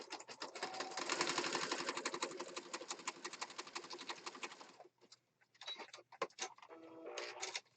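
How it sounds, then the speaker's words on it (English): A sewing machine zigzag-stitches down the middle of paper for an autumn junk journal, a steady, fast mechanical rattle for about five seconds, then short stop-start bursts. "we're going to just zigzag stitch right down the middle here"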